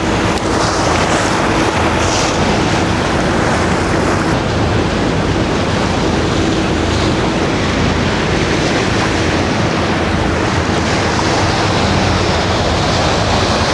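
Steady roar of sea waves and surf, loud and continuous, with wind buffeting the microphone throughout, during stormy weather near Volendam.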